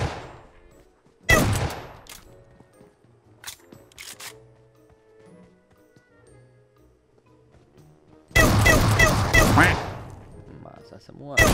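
Bursts of rapid gunfire from a PUBG match, two loud dense volleys separated by sparser single shots and quieter stretches, heard close and sharp.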